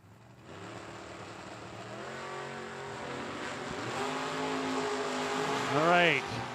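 Drag racing cars, among them a 1990 Camaro, rev and build at a Motor State dragstrip, a droning engine tone rising in pitch and loudness toward a sharp swell near the end, with faint voices underneath.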